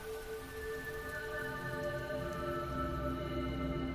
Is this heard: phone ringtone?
no